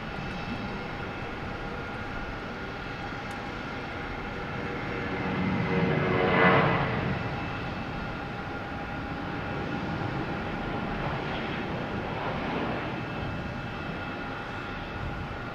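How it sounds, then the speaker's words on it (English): A JetBlue Airbus A320 takes off from Boston Logan Airport, its engine roar swelling to a peak near the middle before easing into a sustained, fading rumble with a steady whine. "Taking off JetBlue and A320 heading to Atlanta"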